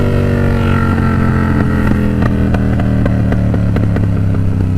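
A Yamaha R7 inline-twin motorcycle engine runs steadily up close with a deep, throbbing idle and rhythmic pulsing, and a few clattering blips of revving can be heard. No voices.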